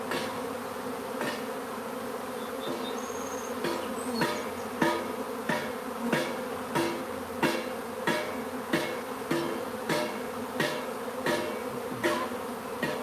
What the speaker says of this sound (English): when the bees are acting a certain way and flying like in a specific pattern